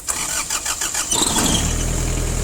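A Japanese mini tractor's engine cranks over briefly, then catches and settles into a steady, loud running rumble, started cold without warming the glow plugs.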